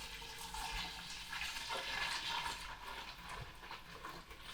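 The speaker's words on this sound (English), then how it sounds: "now to fill up the pinter, so we're going to pour in the solution" Cleaning solution is poured into a Pinter home brewing keg, a steady gushing splash of liquid that runs continuously and fairly close for several seconds.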